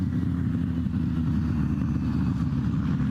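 An Aston Martin GT race car at the Nürburgring gives off a low, steady burbling engine rumble that holds at a constant level for a few seconds, with no talk over it.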